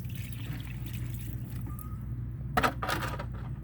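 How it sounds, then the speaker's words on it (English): Rainwater poured from a bucket onto a dry garden plant, a soft trickle and splash rising briefly near the end over a steady low background hum. "Just gave that some water."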